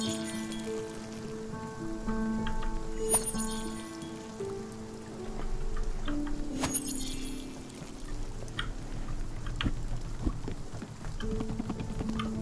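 Rain patters steadily in the video game Spiritfarer, a continuous soft pattering mixed with sustained background music tones and occasional brighter splashy accents.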